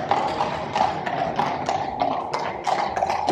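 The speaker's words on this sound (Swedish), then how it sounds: "det kommer hästar på gatan i Paris" Horses clip-clop along a street in Paris, a steady run of hollow hoof knocks at a moderate distance, mixed with a constant low hum of city traffic.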